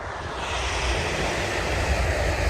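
A train rumbles past an allotment garden, a steady broad roar with low rail rumble holding loud and close throughout, with no talking.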